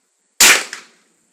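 A single loud gunshot from a handgun fired by a first-time shooter at a range, a sharp close crack with a short decaying tail, standing alone with no talk.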